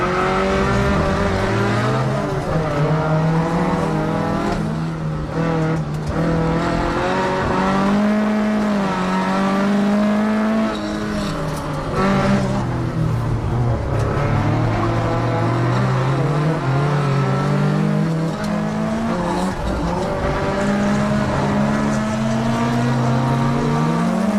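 Cars drifting down a mountain touge road, engines revving and wailing up and down in pitch as they slide through corners one after another, with tire squeal, loud and sustained, no voices.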